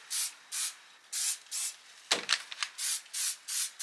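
Stain-proofing spray misted onto shoes outdoors, heard as a regular series of short hissing bursts, about eight evenly spaced puffs with a brief cluster of clicks and handling noise in the middle, fairly close and with no talking.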